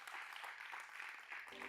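Church congregation applauding at a Sunday service, a steady, dense wash of clapping from many hands throughout, fairly faint and distant.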